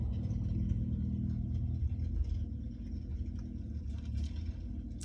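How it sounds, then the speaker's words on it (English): Low engine rumble of a truck passing at some distance, a steady faint drone that eases slightly partway through with no voices. "I swear, this truck was in all my videos."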